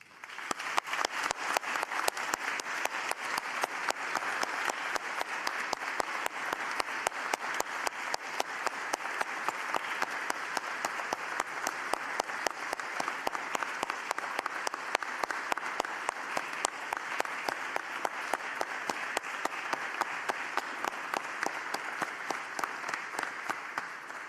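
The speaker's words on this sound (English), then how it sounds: "give them a big round of applause" Sustained audience applause at a university commencement ceremony in Zagreb, a steady dense wash of clapping from a large crowd lasting the full stretch without letup.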